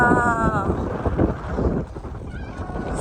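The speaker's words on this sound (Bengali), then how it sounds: "বাতাসে কথা বলতে পারতেছি না" Strong wind blowing into the microphone during an outdoor California vacation, a heavy low rumble and buffeting under a voice talking, easing slightly near the end.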